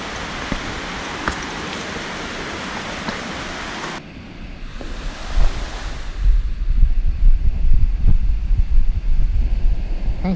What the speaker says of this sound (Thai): ลำธารที่น้ำไหลค่อนข้างจะเชี่ยวมากเลย เนื่องจากว่าฝนตกด้วยแหละ